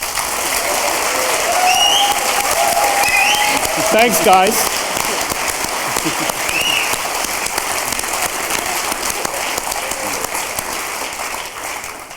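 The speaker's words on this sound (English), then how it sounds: "I think they deserve an applause as well." Audience applause at the opening event of a Fastned electric-vehicle charging station, a steady broadband wash of clapping lasting throughout, with a brief voice speaking over it.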